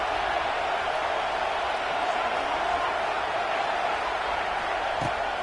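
Broad, steady roar of a football stadium crowd with a home team pinning the Jets deep in their own end, filling the whole clip at an even level with a faint thump near the end.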